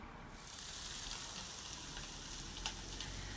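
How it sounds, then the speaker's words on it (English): Peppers and onions sauté in a pan on a stovetop, a steady close sizzle and crackle running throughout with a few sharper pops. "Peppers and onions are sauteing really nicely."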